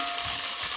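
Corned beef and potatoes fry in a pan, giving a continuous, close sizzle with soft stirring scrapes underneath. The burst is short and steady, with no voices.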